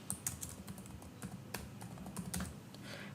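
Keys clack on a computer keyboard as a workflow name is typed, a quick, close run of keystrokes with short pauses between them and no speech.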